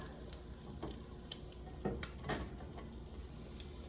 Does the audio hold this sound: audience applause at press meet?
no